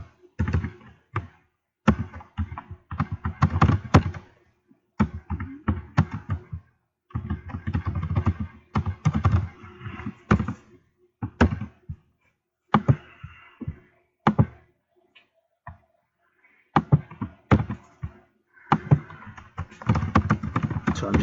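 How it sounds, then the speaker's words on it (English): Typing on a computer keyboard to write a short letter, heard as irregular bursts of close taps and clicks with short pauses between runs. "So I'm just typing her a quick letter."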